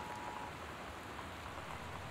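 Steady rain pours during a storm in the video game Gone Home, a constant hiss of falling water with no voices.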